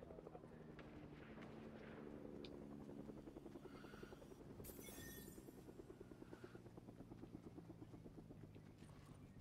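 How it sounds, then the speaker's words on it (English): A helicopter in a video game: a steady rhythmic rotor chop with a low engine drone, fairly close and continuous, with brief bursts of other game noise and some talk faintly behind. "I hear a helicopter."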